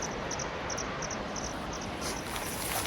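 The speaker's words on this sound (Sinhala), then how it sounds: "අන්න බඹරු කැරගෙන සද්දේ" Giant honey bees swarming by a rock near Kurundu Oya falls in Sri Lanka make a steady, dense buzzing drone with faint high chirps pulsing over it, continuous and fairly quiet.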